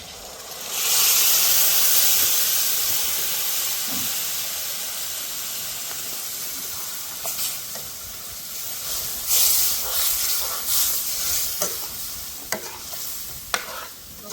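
Paste dropped into hot oil with golden-brown fried onions gives a loud burst of hissing sizzle, which eases into steady frying as it is stirred, with scrapes and clinks of the spoon toward the end.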